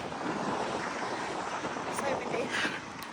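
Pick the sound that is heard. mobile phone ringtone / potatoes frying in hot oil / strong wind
strong wind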